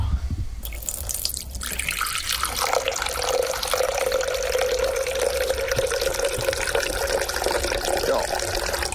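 Water pours steadily into a jug during a game-show contest, starting after a brief pause and building into a continuous splashing stream with a rising filling tone, close and moderately loud.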